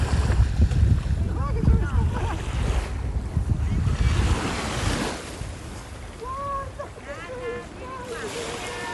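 Sea waves roll in and wash against the shore in steady surges, with broad wind-blown noise over the water and a few faint bird-like chirps in the second half.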